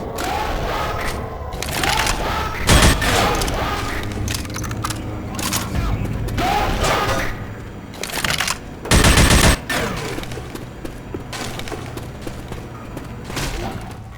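Gunfire in the video game Left 4 Dead 2 on the modded Dark Carnival campaign, loud rapid bursts and single shots over a busy background of game noise and crowd-like clamor, with short pauses between volleys.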